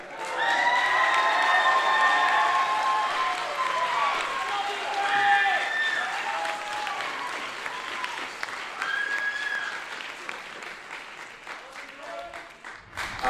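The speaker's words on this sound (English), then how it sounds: "That's too short of an applause for Drake" A concert audience applauds and cheers for the band manager after a symphonic and jazz band performance, loud sustained clapping with whoops and scattered shouts that gradually thins and fades toward the end.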